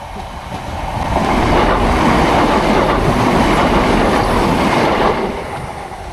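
A loud train rumbles past close by at a crossing, a steady roaring wash of wheels and rail noise with clacking, swelling and then easing slightly toward the end.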